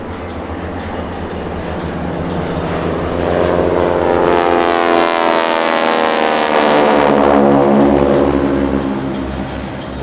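An L-39 Albatros jet makes a loud flyby at an air show, its roar swelling steadily and sweeping through a rising then falling pitch as it passes close overhead.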